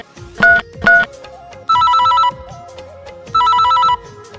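Telephone ringback tone heard after dialling a call, with two short bursts followed by two longer electronic ringing tones, loud and close, alone with no talk over it.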